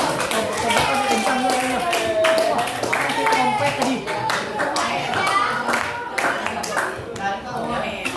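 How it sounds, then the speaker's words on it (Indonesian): A classroom of students claps together in a dense, steady patter of many hands, with talk and voices running underneath throughout. "yang kasih tepuk tangan dulu."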